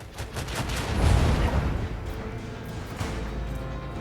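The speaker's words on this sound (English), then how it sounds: "Starboard macro cannon." Starboard macro cannon fire from a ship in the space combat of Rogue Trader: a broad, rumbling volley of heavy booms that swells around the middle and then settles into a lingering low roar.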